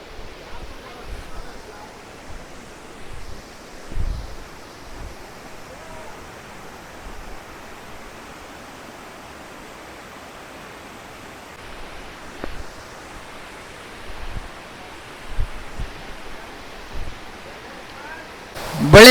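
Bolle waterfall in the misty Charmadi Ghat mountains rushes as a steady broadband roar, with occasional low thumps and bumps near the microphone and a louder burst at the very end.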